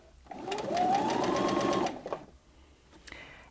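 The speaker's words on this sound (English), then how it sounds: "carry on stitching in the other direction" A Brother Innov-is 15 sewing machine stitches fabric in one steady, close whirring run of about a second and a half, then stops, leaving faint clicks and handling noise.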